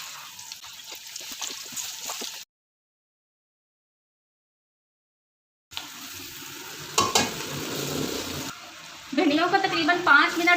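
Marinated okra (bhindi) is dropped into hot oil in a kadai and sizzles softly in bursts. The sound stops briefly, then returns with clattering stirring and a tap running. Someone talks intermittently.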